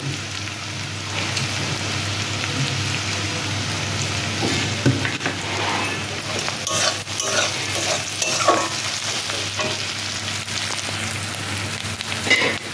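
Taro and greens fry dry in a pan with no water, hissing in a dense, rain-like sizzle while a utensil stirs and scrapes, steady and close throughout.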